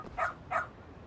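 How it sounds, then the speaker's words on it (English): Two short dog barks from a game dog in Lost Judgment, evenly spaced and fairly faint, over a low background with no talk. "Oh, what a cute doggy."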